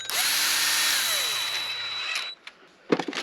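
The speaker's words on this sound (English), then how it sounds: "We got a drill, backup battery" A cordless power drill whirs steadily for about two seconds, then winds down, followed by a few faint clicks and handling noises.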